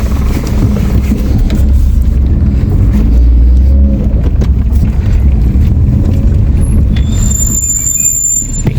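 A Maruti Alto 800's engine and road noise make a loud, continuous rumble from inside the moving car, with a faint high whine creeping in near the end.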